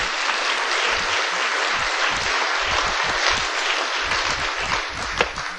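A large audience at a religious gathering breaks into sustained, dense applause, many hands clapping loudly and continuously throughout with no speech over it.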